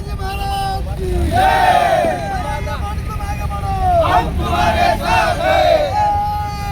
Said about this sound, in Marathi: श्री छत्रपती शिवाजी महाराज चौकामध्ये हा युवकांचा जल्लोष या ठिकाणी आहे